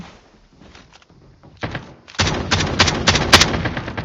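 Shotgun blasts fire in rapid succession in the mobile game Call of Duty Mobile, loud and close, starting with a few muffled shots before a dense, punchy burst of gunfire.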